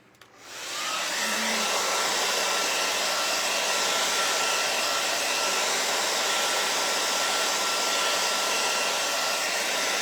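A blow dryer switches on and runs steadily, drying gold paint on a dollar-store witch cauldron craft, its loud constant whoosh held close after a brief quiet start, with no talking.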